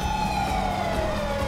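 A wailing police car siren in the video game GTA 5 sweeps steadily downward in pitch, loud and continuous over a dense rumble of game noise.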